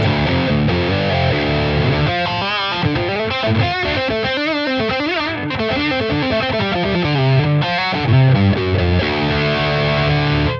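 Heavily distorted electric guitar at highest gain through a cabinet, miked with a Fathead mic, playing loud sustained chords and riffs, thick and saturated, with no voices.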